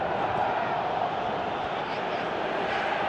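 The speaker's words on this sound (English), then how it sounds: "Crowd appreciates good football all round there." Stadium crowd in a football video game, a dense steady roar of many voices held loud and unbroken throughout.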